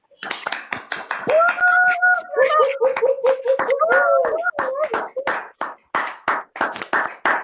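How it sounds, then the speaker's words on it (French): Sparse, sharp handclaps ring out in a small comedy club in France as a comedian is welcomed onstage, uneven and close, mixed with scattered laughter and a voice talking over them. "vais vous demander un tonnerre d'applaudissements pour le seul et l'unique Clément"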